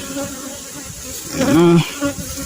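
Dense, steady buzzing of honeybees at an active beehive with a super on wooden starter strips, loud and close, with a short voice-like hum rising briefly in the middle.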